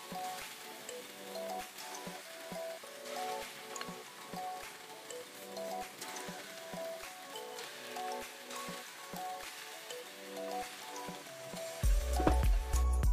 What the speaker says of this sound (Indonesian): Di sini aku gorengnya sampai 2 tahap karena nggak cukup dalam satu pan ini, jadi aku goreng 2 kali.